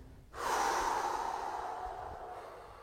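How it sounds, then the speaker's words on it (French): A long, steady breath blown out through the mouth during a belly-breathing exercise, one close, soft, airy exhale that starts abruptly and slowly fades over about two and a half seconds. "En commençant par souffler avec la bouche pour libérer."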